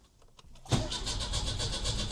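A car abandoned for ten years in rural Hungary cranks over, the starter churning in a fast, even rhythm that comes in loud and close after a brief quiet moment.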